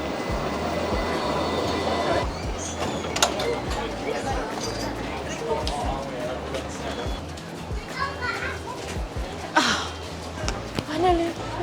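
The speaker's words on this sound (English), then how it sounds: "We're catching the tram to go to Town Hall" A Sydney tram ride, with the rolling rumble and rattles of the car moving along the rails. Passengers and children talk throughout, and a few sharp clanks break through.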